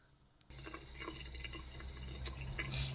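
Tap water suddenly starts running through a kitchen sponge and keeps up a steady splashing flow with small drips and gurgles, close and fairly quiet.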